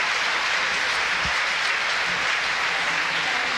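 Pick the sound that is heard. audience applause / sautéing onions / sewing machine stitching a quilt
audience applause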